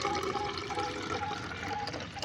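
Onion-soaked water strained through a strainer, a continuous splashing, trickling pour held at a steady level for a couple of seconds, close and without talk.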